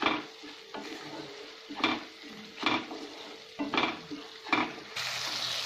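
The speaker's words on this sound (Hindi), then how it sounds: "इन्हें हमें तब तक भूनना है टमाटर का थोड़ा सा कच्चापन निकल जाए" Tomato masala frying in oil in a pan for a mixed vegetable kofta curry while being stirred, with a steady sizzle and about six rhythmic scraping strokes of a spoon against the pan, close and clear.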